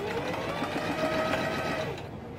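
A sewing machine runs a long basting stitch at its largest stitch length along the waistband line of a fairy skirt, a steady close motor whir that slows slightly near the end.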